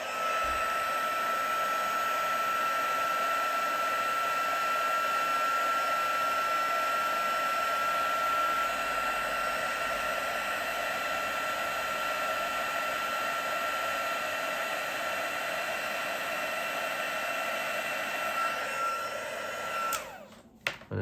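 A heat tool blowing steadily for about twenty seconds to set white embossing powder on a papercraft birthday card, a loud, even whoosh that cuts off abruptly at the end.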